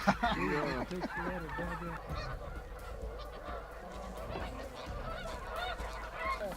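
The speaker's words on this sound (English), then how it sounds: "Nice big mature, maybe even a greater snow goose." A flock of snow geese honks continuously during a spring snow goose hunt, with loud overlapping calls close at hand over a dense, noisy background chorus of more birds and some human talk.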